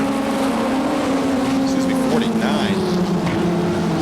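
Pro-4 Modified race cars roaring around the Waterford Speedbowl oval, a loud sustained engine drone with pitch shifts as cars pass out of the turn, under an announcer's running commentary.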